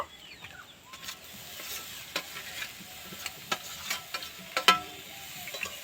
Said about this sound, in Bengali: পনিরটা আলুর সাথে ভালো করে মিশিয়ে নেব